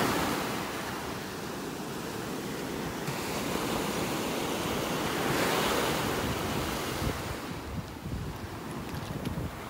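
Small ocean waves break and wash steadily onto a beach in North Naples, Florida, a continuous soft surf roar with light wind noise and no talking.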